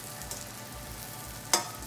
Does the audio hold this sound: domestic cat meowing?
no